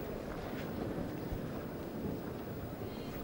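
Strong wind blusters across an outdoor tennis court in Madrid, a dense, constant low roar with gusty buffeting against the microphone throughout.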